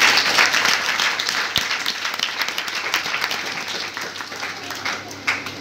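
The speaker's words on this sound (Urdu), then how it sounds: "زوردار تالی آپ نے خدا کی" A church congregation at a Good Friday service bursts into loud applause that gradually thins and fades, with a voice speaking over the clapping.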